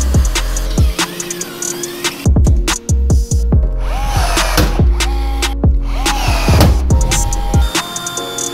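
A power drill drives screws through an aluminum casting deck on a jon boat, with a loud continuous whirring motor and repeated surges and clicks as each screw is run down.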